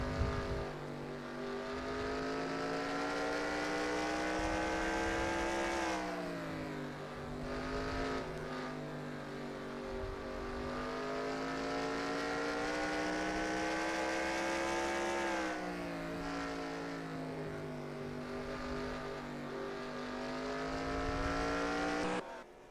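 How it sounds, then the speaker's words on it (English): Race cars in NASCAR Racing 2003 circle the Bristol short track, a steady, close engine drone whose pitch rises and falls with each lap's acceleration and braking, continuous throughout with no voices. "You can see how close are these two SLR cars now."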